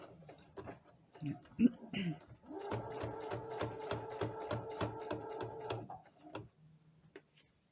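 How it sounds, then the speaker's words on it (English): A sewing machine runs a back-and-forth stitch while shorts are being sewn, giving a close, steady rapid ticking for about three seconds, preceded by scattered clicks and handling noises. "Back and forth stitch from the beginning"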